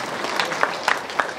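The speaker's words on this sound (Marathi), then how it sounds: "सर्वांनी या ठिकाणी टाळ्या वाजून त्यांचं स्वागत करावं." Villagers clapping in welcome at a week-long devotional gathering, a brief scattering of hand claps, moderately close and sparse rather than full applause.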